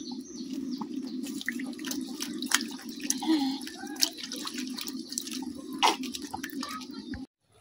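Hot water is poured over dried fish in a home kitchen, giving a steady, close splashing trickle with scattered drips and clinks, then stopping abruptly at the end.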